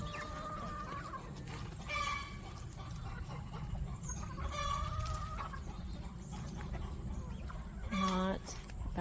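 Backyard chickens, young birds being introduced to an existing flock, cluck and squawk repeatedly while receiving a treat, with louder calls around the second, fifth and eighth seconds over steady outdoor background noise.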